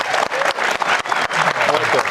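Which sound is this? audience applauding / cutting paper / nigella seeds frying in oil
audience applauding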